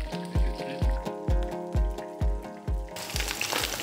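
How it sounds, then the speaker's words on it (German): Canned corned beef sizzles in a frying pan, a steady fry with a regular series of soft thumps, then a brighter, louder hiss near the end. "Und das kann man tatsächlich sogar in die Pfanne hauen und braten."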